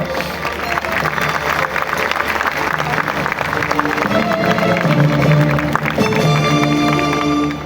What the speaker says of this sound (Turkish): Ve sevgili Işık Ölçü geliyor efendim alkışlarınıza.